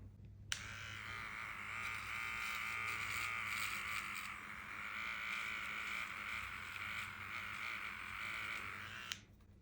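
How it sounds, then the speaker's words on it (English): Electric clippers buzz with a steady, fairly quiet hum as they shave the face of a Brussels Griffon dog in front of its nose, running continuously before switching off. "I am just gonna shave right in front of the nose here"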